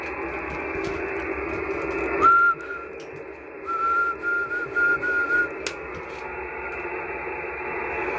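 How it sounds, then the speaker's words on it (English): Steady hiss of a CB radio stream picked up through a 5/8-wave silver rod antenna, with a thin tonal whistle sliding in briefly then warbling on and off for a couple of seconds, faint against the static. "You can clearly listen the whistle."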